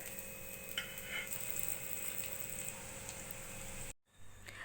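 Veg soya kebabs fry golden in a pan and get turned over, with a steady close sizzle and a few light scraping ticks, then a short dropout before the quieter sizzle resumes.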